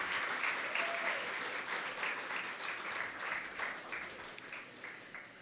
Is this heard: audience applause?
yes